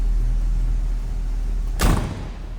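A 1955 Buick Special Riviera hardtop door swings shut with a single solid, heavy thump partway through, set against a low steady engine hum.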